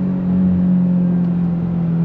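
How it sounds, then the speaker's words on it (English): A Subaru WRX flat-four engine holds a steady, loud, low drone with a strong tonal hum from a 2024 base sedan, even throughout with no voices. "that's what's so great about these flat four engines is that they have such a great sound"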